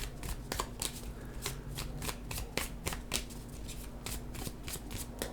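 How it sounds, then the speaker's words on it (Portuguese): Tarot cards shuffled by hand during a daily horoscope reading, giving a rapid, steady run of crisp papery riffles and slaps, close and fairly quiet over a low background hum. "eu sempre embaralho as cartas, né?"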